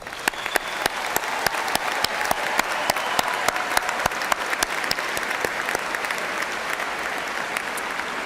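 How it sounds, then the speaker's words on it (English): A large audience at a university spring commencement ceremony claps steadily in a long, even round of applause, with a few sharp, distinct claps standing out above the crowd. "Let us honor all of these outstanding student scholars with a round of applause."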